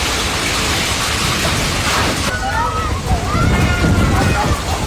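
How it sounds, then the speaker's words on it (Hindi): Heavy rain pours down during flooding in Jeddah, Saudi Arabia, a dense, loud wash of falling water and sloshing with faint voices mixed in. "जिद्दा और उसके आसपास के शहरों में बेहिसाब बारिश से बाढ़ जैसे हालात बन गए।"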